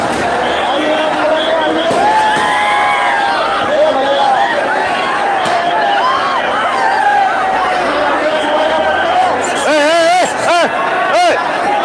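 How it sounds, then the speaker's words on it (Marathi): A huge crowd fills Jarange Patil's rally in Beed, producing a loud, continuous babble of many voices throughout. Someone talks over the din, and a wavering horn or siren-like tone rises briefly near the end. "बीडच्या इतिहासातील सर्वात तुफान सर्वात विशाल सर्वात प्रचंड अशी गर्दी या ठिकाणी आपण बघू शकतोय"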